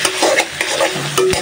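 Garlic and onion, with the garlic crushed, frying in a pan and being stirred, giving a steady close sizzle with a few scraping stirs.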